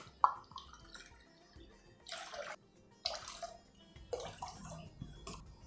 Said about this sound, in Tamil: எதில் பருப்பு எடுத்தோமோ அதிலே தண்ணி விட்டுக்கலாம்